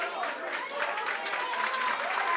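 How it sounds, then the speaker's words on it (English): A hurling crowd at a Waterford senior hurling semi-final, Dungarvan against Roanmore, claps steadily and warmly as a substituted player leaves the pitch, a continuous wash of applause with a voice heard over it. "Chris Dempsey gets a warm round of applause."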